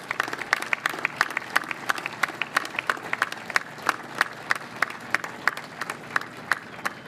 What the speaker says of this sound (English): Let's have a round of applause for all of our NASSCO employees.